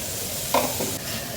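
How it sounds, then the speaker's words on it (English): Corn kernels tipped into a pan of toasting rice, a short bright rattle and sizzle burst rising out of a steady background frying hiss, followed by light stirring. "So this point we're going to go ahead and add our corn."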